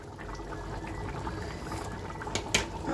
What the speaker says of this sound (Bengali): এবার এটাকে ফুটতে দিয়ে দেব।